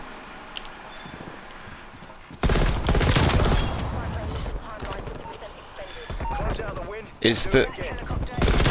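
Bursts of M16 rifle gunfire in the multiplayer video game Black Ops Cold War, loud and dense, with a quieter stretch of game ambience and brief speech at the start.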